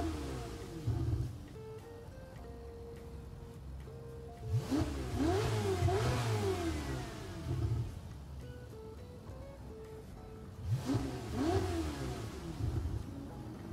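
A 2019 Ferrari F8 Tributo in Gran Turismo 7 revs its engine in two sharp bursts, each rising and falling quickly over a quieter idle, loud and close with no talking.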